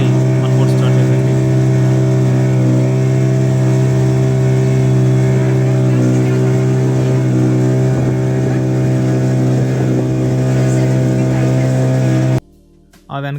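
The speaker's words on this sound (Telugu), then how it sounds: "ఫైనల్లీ మన బోట్ స్టార్ట్ అయిపోయింది." A motorboat engine at Yanam beach drones loudly and steadily right up close, a constant hum that drops out abruptly just before the end.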